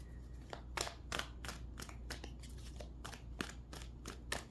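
Tarot cards being shuffled by hand, a run of crisp riffling bursts and flicks repeating at an uneven rhythm over a low room hum, close and moderately quiet.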